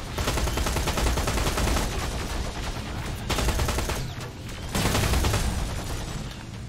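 Continuous machine gun fire in a Terminator video game, dense rapid bursts that are loud and close, broken by a couple of short gaps and then resuming at full intensity.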